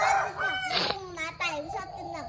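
A chicken eating water spinach gives a rooster-like crow with rising and falling calls, close by and fairly loud, while people and someone talk around it.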